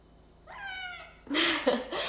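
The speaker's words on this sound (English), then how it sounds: "Here's one of my cats, in case you want to meet him." A pet cat lets out a single clear, drawn-out meow at home during a plant-based cooking class, followed by a burst of louder broadband household noise.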